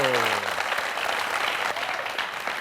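Loud, dense applause from a large audience standing to honour an international recognition, a steady wash of clapping that fills the whole moment after a voice fades out at the start.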